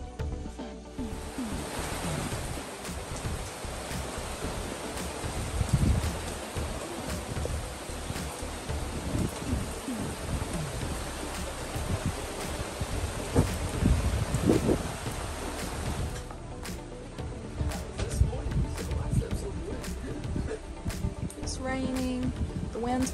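Heavy rain pours steadily on a boat anchored in the Shark River during Hurricane Ian, a dense, continuous hiss with gusty surges and occasional sharp drips or knocks, heard alone without clear thunder.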